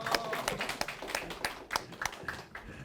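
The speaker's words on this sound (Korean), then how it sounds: "박수 크게 치셔야 됩니다." Audience applause after a speech at a Daegu-Gyeongbuk party field committee meeting: several sharp, irregular claps over a continuous crowd clapping wash, fairly close and steady for a few seconds.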